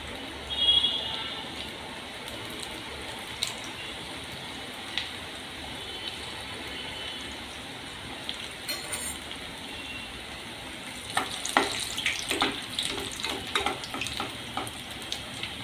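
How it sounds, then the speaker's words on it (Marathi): Cheese bread rolls fry in hot oil over a medium flame, giving a steady soft hiss that grows into denser crackling and popping toward the end, with no talking. "आता आपण हे रोल आहेत ते आपण तळून घेऊया"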